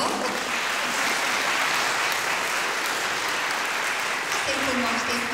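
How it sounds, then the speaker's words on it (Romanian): Sustained applause from a concert audience at a school music department show, dense and even throughout, loud and close, with some crowd voices mixed in. "Aplauze, vă rog!"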